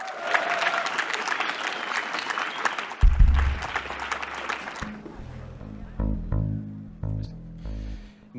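An audience at a school charity spring festival concert applauds the band heavily for several seconds. Low bass notes enter as the clapping fades, and the band then begins playing with short musical phrases.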